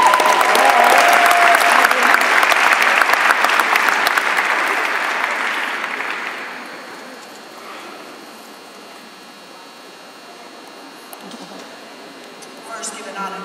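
An audience at a Chicago State University mayoral runoff event applauds to welcome Minister Sylvia Jones, the clapping steady and full for several seconds before thinning out into room noise and scattered claps.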